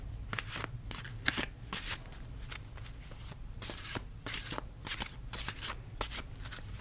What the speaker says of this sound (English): Just want to shuffle these ones really quick.